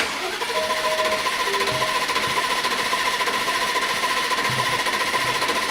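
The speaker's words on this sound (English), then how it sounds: "So when I connect this end to positive now, it should crank over." Aston Martin DB12 engine turning over on its starter motor powered through a jumper cable, a steady rapid mechanical chatter with a whining tone, close and sustained without firing, no voices.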